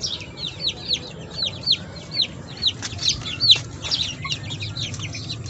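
Chicks clucking and peeping as they gather to eat feed from a trough, a run of repeated high chirpy calls over a low steady background hum, close and fairly clear.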